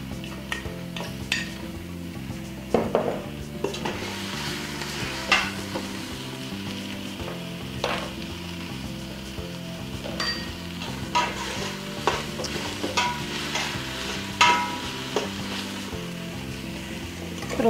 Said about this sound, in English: Okay, we're gonna go ahead and add in the rest of the garlic.